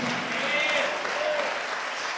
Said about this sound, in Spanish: Dame un aplauso fuerte al Señor.